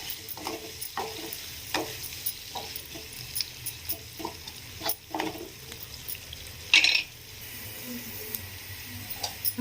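Onions and green chillies fry in a pan with turmeric, giving a steady low sizzle broken by the scrape and clack of stirring, with one sharper clink near the end.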